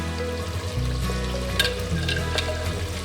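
Beef trotters masala sizzles gently in ghee in a Lahori paye preparation, a steady low frying hiss over a faint background hum, with a few brief stirring scrapes.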